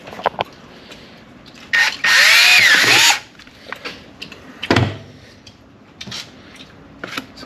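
A power drill bores a hole in a skate frame in one loud, high whirring burst of about a second. Knocks and handling sounds of the frame come before and after it.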